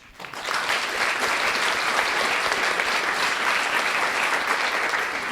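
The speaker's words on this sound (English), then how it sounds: "Give yourselves a round of applause." A live studio audience at a philosophy talk program applauds loudly and steadily, a dense wash of clapping that rises quickly and holds evenly to the end.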